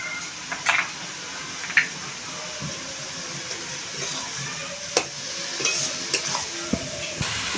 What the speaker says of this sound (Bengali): ভালো করে নেড়ে চেড়ে দিয়েছি সমস্ত মশলাগুলো পেঁপের সাথে